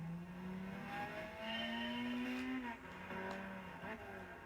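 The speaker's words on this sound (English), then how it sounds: "the turbo is really putting in work right now." A turbocharged Lotus Elise in Gran Turismo 6 accelerates around a tight go-kart course, its engine note climbing through rising revs, dropping briefly at a shift, then pulling up again, loud and continuous.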